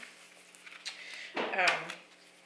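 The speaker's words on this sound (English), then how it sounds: "There's like a loud creaking of the floors in there." Floorboards creak loudly in a room nearby, a brief stretched groan with a short scrape before it, over faint background sounds and a steady low hum.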